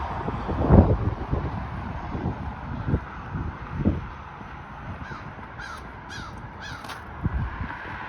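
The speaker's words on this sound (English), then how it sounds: "that sounds like a crow" A crow caws a few times, with harsh calls rising over steady wind noise and a soft rustle, moderately close.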